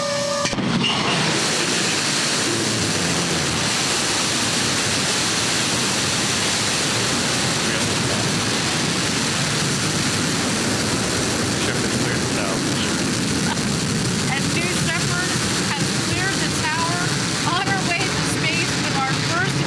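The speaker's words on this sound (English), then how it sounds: "Command engine start." A Blue Origin rocket engine roars at launch, a broad, continuous rumbling blast that swells within the first second and holds loud and unbroken for nearly twenty seconds, with commentary voices faintly mixed in.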